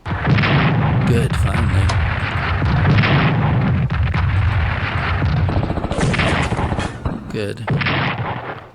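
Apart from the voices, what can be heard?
artillery guns firing in Strategic Command video game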